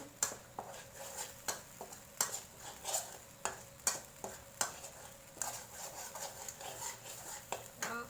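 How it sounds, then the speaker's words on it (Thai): Chicken curry paste stir-fried in a pan, with a spatula scraping and clinking against the metal in an irregular rhythm over a soft sizzle, close and fairly quiet, while someone talks. "ผัดไปเรื่อยๆจ้ะจนหอม"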